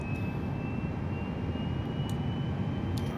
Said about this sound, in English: So the APU should be running.